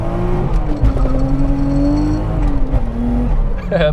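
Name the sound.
car accelerating and shifting gears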